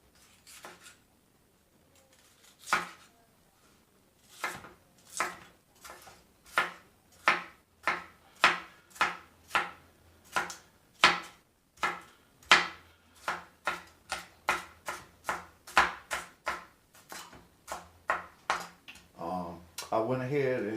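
An onion chopped on a cutting board with a knife, a long run of steady, fairly quick close thuds, about one or two per second, with a voice speaking faintly over them.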